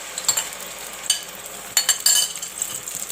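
Paste of onion, ginger, garlic and green chili sizzles in hot oil for a chicken curry, with soft crackling and a few sharper stirring bursts.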